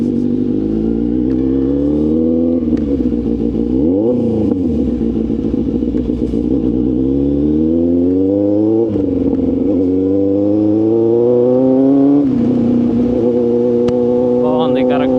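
A Kawasaki Z800 motorcycle pulls away after the clutch is released, its engine note rising steadily through revs and dipping at gear changes, loud and close throughout with a voice talking over it.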